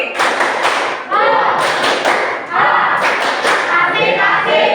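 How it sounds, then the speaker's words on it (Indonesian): Many people clap together in a steady patterned rhythm, loud and close, while voices chant the Indonesian 'tepuk pagi' morning clap chant over the clapping throughout. "Mulai 1, 2, 3. Tepuk pagi."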